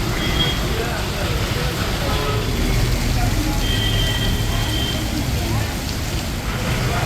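Heavy rain pours in Vellore district, Tamil Nadu, a dense, even roar that fills the whole stretch at constant loudness, with a voice faintly present beneath it.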